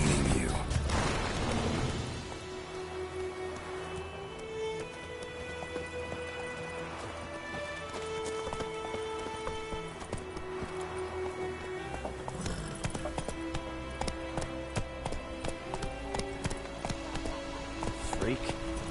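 Horse hooves clip-clop at a steady trot while riding in the video game The Witcher 3, rhythmic close hoofbeats mixed with game music tones and occasional thuds, a voice briefly speaking at the start.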